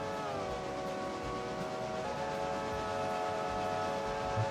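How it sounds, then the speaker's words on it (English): Train in the railroad simulator game RailRoader, with a sustained multi-tone horn or whistle blowing over a continuous rumbling engine and rail noise, the horn pitch dipping slightly partway through. "Trains make a lot of freaking noise."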